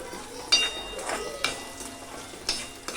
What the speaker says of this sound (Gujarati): સિમલા મિર્ચ બરાબર મિક્સ કરી દેવાનું